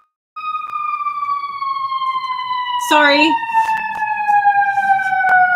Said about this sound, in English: Godspeed, ambulance.